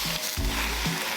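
Beef shank sizzles loudly and continuously on a grill over hot charcoal, a bright crackling hiss with a few soft bumps underneath.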